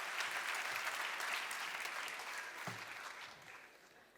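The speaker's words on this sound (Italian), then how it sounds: "tributiamole il giusto e meritatissimo applauso" A theater audience applauds a singer at a Neapolitan song festival evening, a broad, steady wash of clapping that stays dense throughout and fades slightly toward the end, with no voices over it.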